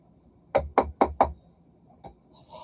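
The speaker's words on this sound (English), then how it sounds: "knock on wood." Knuckles rap on wood four times in a quick, even series, close and crisp, followed by a single fainter tap after a short pause.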